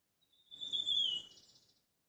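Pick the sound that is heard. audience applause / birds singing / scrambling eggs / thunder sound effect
birds singing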